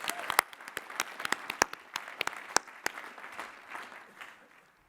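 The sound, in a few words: commencement audience applause for master's degree recipients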